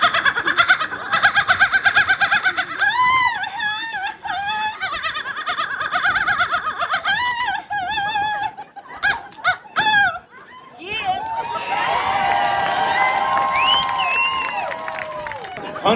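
Contestants at a seagull screeching contest on Ocracoke Island, North Carolina, imitate gull cries with their voices, loud shrill honking squawks repeated close up, with crowd noise and cheering around them.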